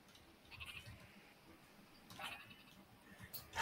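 The sheep weapon in Worms W.M.D. gives faint, brief bleats against a quiet game background, ending with a louder burst.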